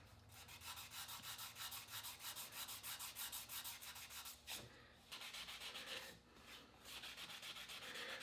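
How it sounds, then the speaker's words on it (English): Abrasive pad or sandpaper scuffing the outer surface of a turned wooden bowl, a steady back-and-forth rubbing rasp in quick regular strokes, close and continuous with one brief pause, no talk. "Just wanting to scuff it up a little bit so that when I put my finish on, it'll have something to stick to."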